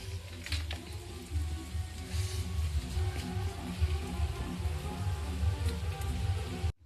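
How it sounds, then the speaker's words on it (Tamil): Heavy rain driven by strong wind pours steadily outside a balcony, a dense constant hiss with low gusty rumble throughout, close and loud, with no voices. "உங்களுக்கே தெரியுதுன்னு நினைக்கிறேன், நல்ல மழை பெய்யுது."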